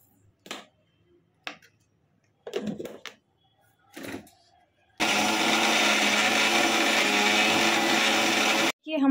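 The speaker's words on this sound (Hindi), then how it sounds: "जो लहसुन अब मैं इसको मिक्सी में पीस लेती हूँ।" A mixer grinder with a large jar whirs loudly and steadily for about four seconds, grinding garlic chutney with salt and a squeeze of lemon, then cuts off abruptly. Before it starts there are a few brief clatters and knocks.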